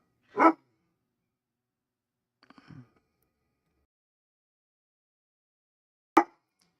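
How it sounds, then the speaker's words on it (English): A house dog barks intermittently in the background: a single sharp bark, then a few faint rapid yips a couple of seconds later, and another sharp bark after a long pause. "Here, there, my dog barking in the background."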